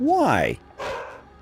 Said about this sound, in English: he turns into this evil dog that just barks at everything